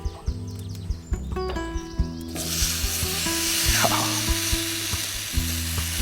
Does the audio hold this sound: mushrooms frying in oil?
yes